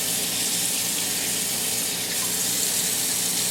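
Water runs steadily from a kitchen sink tap to wash spent slime down the drain, making a constant, loud, close-up rushing flow with no speech.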